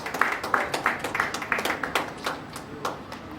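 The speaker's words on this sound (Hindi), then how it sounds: "और जोरदार तालियां होनी चाहिए इन सभी के लिए" Audience applause at a Patna stage event: a small group claps in a steady, fairly close patter that thins out toward the end.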